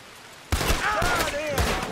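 Gunfire in the video game Red Dead Redemption 2 breaks out suddenly after a quiet moment, a burst of sharp shots with ringing echoes lasting over a second, loud against faint background.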